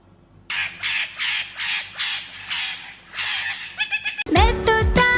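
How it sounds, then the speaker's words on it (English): A parrot gives a string of about eight harsh, raspy squawks in an uneven rhythm, loud and close, ending in a quick chattering flurry before a bright musical jingle begins. "P for parrot."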